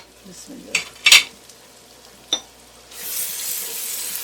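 Tomatoes for Madrasi chicken biryani cooking in a lidded pan over a medium-high flame: a few metallic clinks and knocks, then a steady, fairly loud hiss of sizzling that continues to the end.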